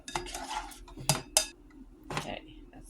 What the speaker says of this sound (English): I'm going to sprinkle it over the top, and then just mix it together